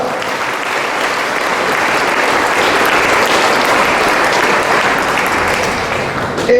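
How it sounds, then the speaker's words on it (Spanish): A congregation inside a parish church during Sunday Mass breaks into loud, sustained applause, with dense clapping from many hands that continues steadily for several seconds. "Regalemos el aplauso al Mora."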